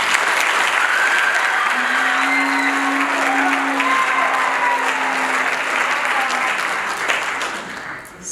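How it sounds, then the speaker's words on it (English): An audience at a high school spring concert applauds loudly and continuously for several seconds, the clapping thinning out at the very end. "That deserves a round of applause."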